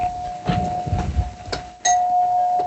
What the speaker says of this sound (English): you don't know your doorbell?